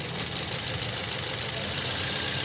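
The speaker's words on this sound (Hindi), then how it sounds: "ये अब वाइब्रेट करेगा इंजन।" A car engine idles roughly with faulty fuel injectors, still misfiring after new spark plugs and ignition coils, giving a steady, close, continuous rumble with vibration and no talk over it.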